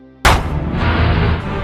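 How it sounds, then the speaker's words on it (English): A single sharp gunshot cracks through a nightclub in a film, hitting hard and then ringing out in a long, dense echo that fills the room. "The gunshot echoes through the club, prompting people to quickly disperse"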